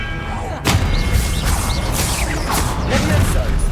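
Expelliarmus spell cast in Hogwarts Legacy, a sudden loud magical blast followed by a sustained crackling, whooshing burst with rumbling low impacts across a few seconds, with voice under the effects.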